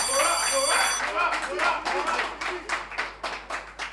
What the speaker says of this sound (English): Please continue with the clap, continue with the clap.